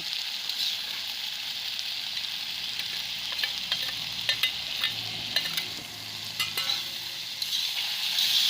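Ginger, cumin powder and red chili powder fry in hot oil for a pork curry, giving a steady close sizzle broken by scattered clicks of stirring, with no talk.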